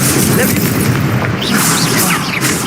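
A loud, booming fire-spell blast from the Incendio spell in a wizard duel video game, a roaring burst that fills the short moment, with shouted voices around it.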